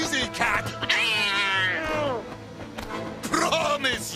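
Cartoon cat from the Watership Down animated series, yowling and meowing in drawn-out wavering cries amid a busy soundtrack with scuffling hits and some voices.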